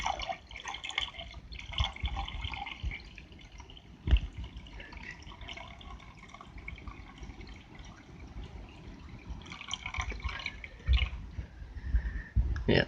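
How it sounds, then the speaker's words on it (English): Liquid trickles and drips as it is slowly decanted off a layer of nitroglycerin in a container, with intermittent splashes, small clinks and soft pours, close and fairly quiet. "So basically I'm just decanting the container that has the nitroglycerin in it right now"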